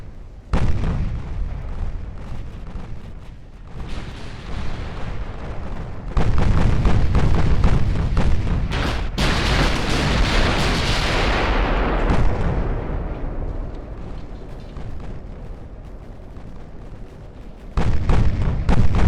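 Naval guns firing in the warship battle game Ultimate Admiral: Dreadnoughts, heavy booming salvos rolling into a dense, continuous roar of cannon fire and distant explosions, loud and unbroken for most of the stretch.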